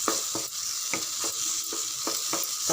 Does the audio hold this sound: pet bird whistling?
no